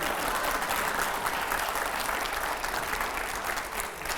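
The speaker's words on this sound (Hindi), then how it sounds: "जोरदार तालियों यहां पर" A studio audience at a televised political interview breaks into loud, dense applause that holds steady and continuous throughout, with no voices over it.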